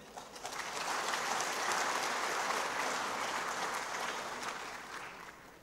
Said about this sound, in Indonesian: Dari tadi kok tepuk tangan terus.